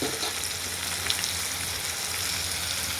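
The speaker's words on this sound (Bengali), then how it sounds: "ভাজা হয়ে গেছে, বেশি ভাজবো না বন্ধুরা" Hilsa fish fries in a pan with a steady, dense sizzle throughout and no voices.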